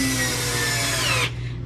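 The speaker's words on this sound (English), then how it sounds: "Jeff's reinforcing with some long drywall screws" Power drill driving long drywall screws into an RV bed frame, a loud close whining motor that holds steady then cuts off abruptly near the end.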